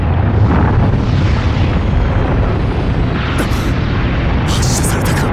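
A weapon launch explosion in the Rockman Zero video game roars as a loud, continuous rumbling blast for over five seconds, with short sharp hissing bursts breaking through near the end.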